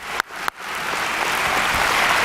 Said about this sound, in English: really, give yourself some applause